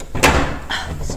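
A heavy door closes inside an abandoned castle, a sharp loud thud followed by a rattling, creaking scrape as it settles, close by and echoing slightly.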